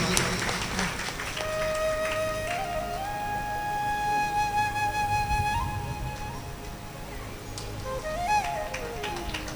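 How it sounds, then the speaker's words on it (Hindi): Applause from an audience at a Bhagwat Katha gathering in a temple, a steady wash of clapping that runs the whole stretch alongside sustained harmonium or keyboard tones, with a brief voice near the end. "जोरदार तालियों से उनका स्वागत कीजिए।"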